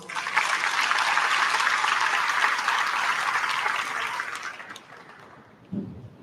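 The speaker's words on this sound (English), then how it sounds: "Let's all clap it up for our leadership speaker, Ms. Abby Hawley." Audience applause at a National Honor Society induction ceremony, a dense sustained clapping from a large crowd lasting about five seconds before tapering off, followed by a brief sound near the end.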